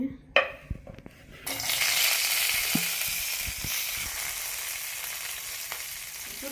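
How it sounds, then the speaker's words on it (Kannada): Green chillies dropped into hot oil set off a loud, sustained sizzle and crackle that starts abruptly after a few quiet clicks and settles into a steady fry. "ಇವಾಗ ಅದಕ್ಕೆ ಫಸ್ಟು ನಾನು ಹಸಿಮೆಣ್ಸಿನ್ಕಾಯಿ ಹಾಕ್ಕೊತೀನಿ"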